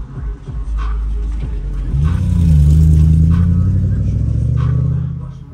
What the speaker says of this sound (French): c'est là où toutes les voitures accéléraient à fond pour rentrer dans le parking